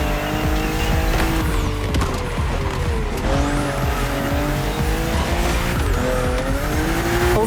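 BMW M2 and M4 race cars in The Crew Motorfest video game roar continuously with loud engine revs and gear shifts, tires squealing and skidding through sharp bends on a narrow road.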